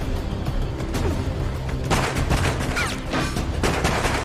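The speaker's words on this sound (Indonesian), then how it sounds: "Adu tembak pun tak terelakkan." Gunfire during a shootout with cartel gunmen, with rapid bursts of sharp shots clustering into a loud, dense volley after a tense stretch of rumbling background action, no speech.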